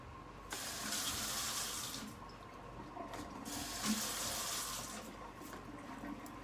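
Sensor-activated kitchen sink faucet pouring a steady stream of water, a continuous close hiss with slight surges as the flow shifts, no talking over it.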